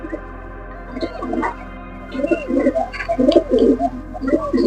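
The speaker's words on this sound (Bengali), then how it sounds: "নর কবুতর" A male Kaldum pigeon coos close by in a soft, low series of rolling calls, quieter at first and then repeating more fully in a steady rhythm.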